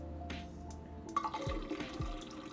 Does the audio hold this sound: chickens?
no